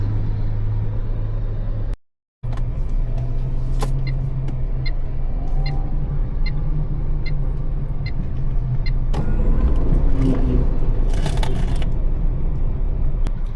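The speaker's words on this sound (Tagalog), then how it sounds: "ang lakas ng arangkada ni ano, VF3" A VinFast VF3 electric car accelerates with a steady low motor hum and road rumble, briefly cutting out, then growing louder with faint mechanical whirs as it picks up speed.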